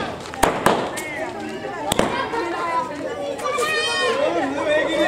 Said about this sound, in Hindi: देखो थोड़ी देर के अंदर देखो आप पटाखे।